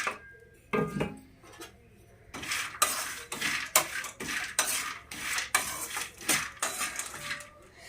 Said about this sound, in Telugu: ఇప్పుడు దీనిలో ఎండు కొబ్బరి వేపుకుంటున్నానండి దోరగా.